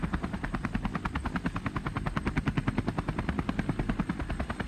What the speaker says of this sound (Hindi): ये देखो एक और हेलीकॉप्टर इसे भी चलाते हैं